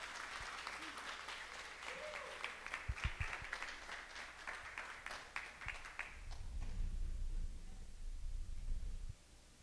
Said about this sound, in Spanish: Aplauso, por favor, para Fernando Hernández Márquez.